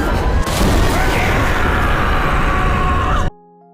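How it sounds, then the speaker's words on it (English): An anime explosion magic attack erupts as a loud, sustained rumbling blast with crackling texture, roaring for about three seconds before cutting off abruptly into near silence. "Kazuma lured the undead towards Beldia so that Megumin would attack them with explosion magic"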